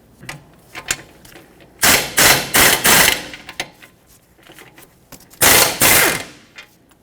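Metal bolts and tools clank in a series of loud, sharp bursts at close range while 17 mm ball joint bolts are worked loose from the steering knuckle of a 2006-2010 Hyundai Sonata.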